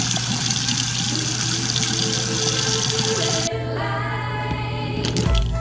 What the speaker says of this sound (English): Take the brush, put it in the water, and use your fingers to remove all the pigment so that the brush is nice and clean.